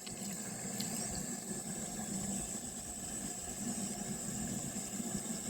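A sprayer fed from a rooftop water tank sprays water in a steady, continuous hiss with a low rumbling undertone, unbroken throughout.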